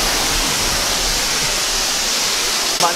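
Agbalala Falls in Abra de Ilog, Occidental Mindoro, heard from the top as a loud, steady broadband roar of rushing water filling the whole stretch, with a brief thump near the end.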